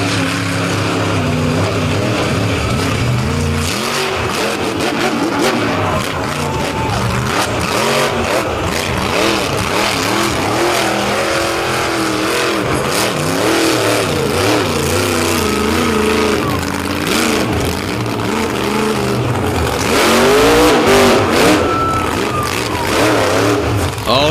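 Monster truck engine roaring and revving hard on a beach course at a monster truck show, loud and continuous with surging throttle bursts throughout.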